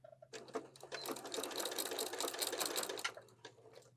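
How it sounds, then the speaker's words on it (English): Sewing machine stitching through several layers of an apron with a 3/8 seam allowance, a close rapid mechanical whir in bursts that start and stop over a few seconds, fairly quiet overall. "Now using a 3/8 seam allowance, we're going to sew all our layers"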